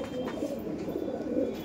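A pair of Kalshira and Fulshira pigeons coo softly in a continuous low murmur, close and fairly quiet, with no talk over them.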